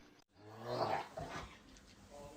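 An old dog growls low and rumbling at close range, a sustained throaty sound across most of the short moment after a brief silent gap, with faint household noise behind it.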